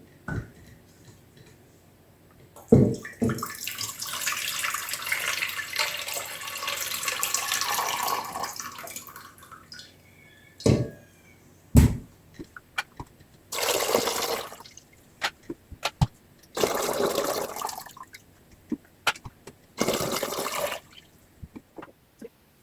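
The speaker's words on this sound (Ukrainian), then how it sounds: "Зливаємо воду у каструлю" Water pours and splashes from jars into a pot in several separate bursts, with gurgling and clinking between pours, fairly close by.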